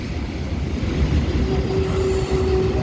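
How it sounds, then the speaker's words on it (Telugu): A goods train runs on the parallel track beside a moving MEMU train, a loud continuous rumble of rolling wagons with a thin, sustained wheel squeal rising near the end. "మనకి ప్యారలల్గా గూడ్స్ ట్రైన్ వెళ్తుంది చూసారా."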